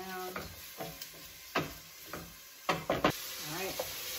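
Chopped onions sizzle in a pan while a utensil scrapes and knocks as it stirs them, several distinct stirring strokes over a faint steady frying hiss.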